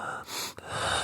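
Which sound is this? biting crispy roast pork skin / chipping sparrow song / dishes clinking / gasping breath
gasping breath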